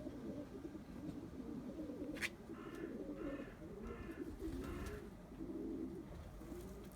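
A racing pigeon, a first-national Barcelona winner, gives a quiet series of soft, rhythmic coos, roughly five in a row, over low background noise.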